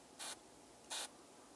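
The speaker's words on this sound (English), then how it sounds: "Now let me blow a little air on here, get this drying a little faster." Two short puffs of hissing air blown onto wet paint on a miniature figure, each lasting a fraction of a second with a pause between, against a quiet background.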